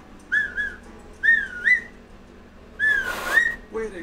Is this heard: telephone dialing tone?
no